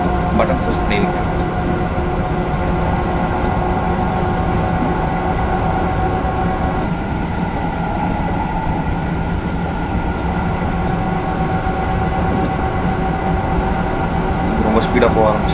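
TGV high-speed train gathering speed on the way to Marseille Saint-Charles in the Train Simulator 2017 game, a dense steady rumble with humming tones and a faint click near the start and end.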